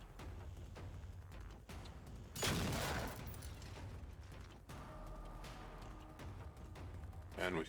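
Automatic weapon fire in the video game Generation Zero comes as a rapid burst of gunfire, with clicking mechanical sounds and a quieter stretch around it.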